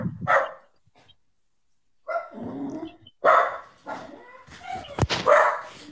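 Dogs barking on a rural homestead, several loud barks coming in separate bursts with short quiet pauses between them.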